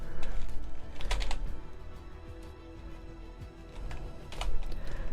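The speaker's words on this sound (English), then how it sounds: "I don't mind loud keyboards, but I think even as far as loud keyboards go, I think mine is too loud." Clattery typing on a loud computer keyboard, close and crisp, with bursts of rapid keystrokes separated by brief pauses and a quieter stretch in the middle.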